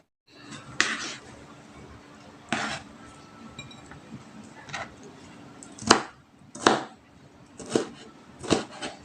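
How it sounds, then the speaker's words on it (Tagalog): A kitchen knife slicing vegetables for Filipino achara on a board, irregular crisp chops spaced a second or two apart, close and clear over a soft room background, no talking. "lahat pong ito ay hihiwain po ng ganito"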